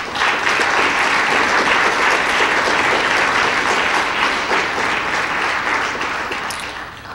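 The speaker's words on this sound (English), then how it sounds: "that deserves a round of applause" A steady wash of applause from an audience honoring National Merit semifinalists at a student scholars recognition event, dense and sustained throughout before tapering slightly at the end.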